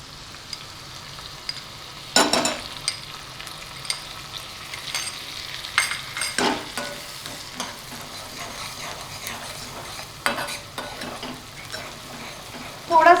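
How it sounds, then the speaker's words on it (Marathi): Chopped garlic fries in hot oil in a pan for a spicy garlic chutney, with a steady soft sizzle and occasional louder stirring scrapes and clatters. "हे झालं की आपण त्याच्यात हे जे लसणाचे हे केलेले ते टाकून देतोय."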